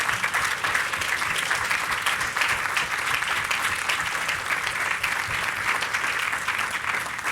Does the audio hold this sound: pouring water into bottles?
no